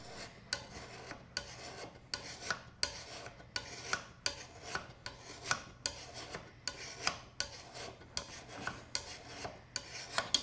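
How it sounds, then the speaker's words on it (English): Hand file rasping metal on a Lie Nielsen 5-1/2 hand plane, about fifteen evenly spaced scraping strokes in a steady back-and-forth rhythm, close but fairly quiet, with no talking. "that represents probably 10 minutes of filing"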